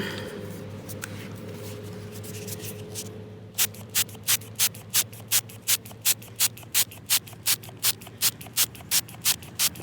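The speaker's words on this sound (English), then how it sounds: "So I figured we'd go ahead and spray this off." After a few seconds of low background noise, a water spray nozzle cleaning a coin starts hissing in short, evenly spaced bursts that repeat steadily.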